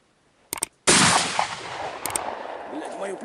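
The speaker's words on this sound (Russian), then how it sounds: "Уже боюсь выстрела, уже реально боюсь выстрела, потому что уже плечо болит. Хотя это 16 калибр." A 1959 TOZ-63 16-gauge shotgun fires a single slug as one sharp, very loud blast at close range, preceded by faint mechanical clicks, then a rolling outdoor echo that decays over a couple of seconds.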